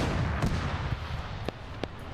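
A 75 mm cannon fires in a Korean War video game, a booming shot followed by a few sharp, distant cracks over a dense rumbling battlefield background.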